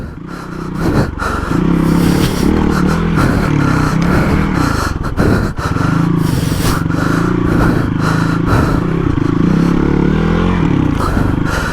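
A Hero XPulse 230 big-bore build motorcycle rides off-road in second gear toward a rock garden, its engine droning loudly and steadily throughout with rumbling low tones, wind buffeting and clattering from rough terrain, no talk.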